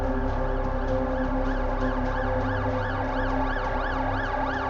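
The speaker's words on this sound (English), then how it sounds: "Ambulance?" A wailing ambulance siren in the video game The Alters rises and falls in steady cycles, loud and continuous over a low rumbling backdrop, with no voices.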